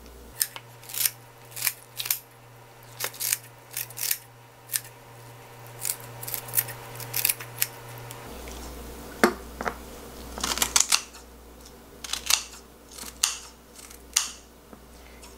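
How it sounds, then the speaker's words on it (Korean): Kitchen scissors snip cabbage kimchi into small pieces for kimchi stew, a long run of crisp, close cuts spaced irregularly about once a second, with no talk. "이런 거는 가위로 이렇게 뚝뚝 잘라주면 돼요"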